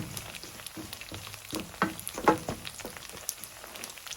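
Nigerian fried rice crackling in a pan as it is stirred, soft spattering sizzle with irregular scraping and clicking accents, fairly faint and close, no talking.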